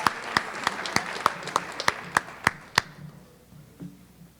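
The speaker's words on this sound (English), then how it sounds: "Let's have a big round of applause for the SNHS induction class of 2022" Claps ring out at a high school Science National Honor Society induction ceremony, greeting the induction class; a sparse, regular series of sharp, separate hand claps in a reverberant hall, stopping abruptly partway through and leaving quiet room tone.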